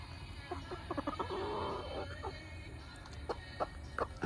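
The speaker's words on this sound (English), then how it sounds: "I love those little rooster sounds." A young rooster with green legs gives soft clucks and a few short, squeaky crowing attempts, scattered irregularly over a quiet farmyard background, near and fairly faint.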